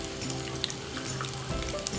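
Dried red chillies and green chillies frying in hot oil with ginger, garlic and fenugreek for a Chettinad tomato kara chutney, giving a steady close sizzle and crackle throughout, with no talking.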